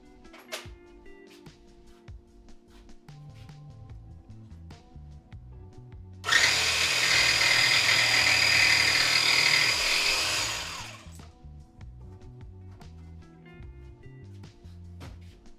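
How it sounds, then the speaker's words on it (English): A power jigsaw cuts through wood at a workbench with a loud, steady buzzing drone that lasts about four seconds, starting and stopping abruptly over quiet background sounds. "I will turn the mic off to use the jigsaw here"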